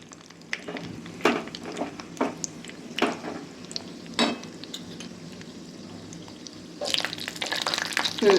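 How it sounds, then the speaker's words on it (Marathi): Cashew pieces frying in hot ghee in a pan give a steady close sizzle, broken by several sharp stirring scrapes and clinks, with a louder burst of sizzling near the end. "काही काजूंचे असे 2-2 तुकडे करून घेतले, ते आता आपण तुपामध्ये तळून घेऊया"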